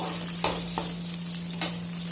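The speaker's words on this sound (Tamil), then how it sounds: "இப்போ கருவேப்பிலை பொரிஞ்சதுக்கு அப்புறமா பூண்டு சேர்த்துக்கலாம். இந்த பூண்டு எண்ணெயில நல்லா வதங்கட்டும்." Garlic and curry leaves frying in hot oil for paruppu urundai kulambu, a soft steady sizzle with a few faint stirring clicks, close and without talk.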